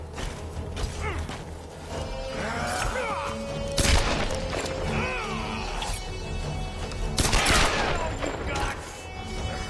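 Gunfire in the video game Tomb Raider, with dense bursts and sharp shots over a steady game soundtrack and mechanical clatter, loudest in two heavy volleys partway through.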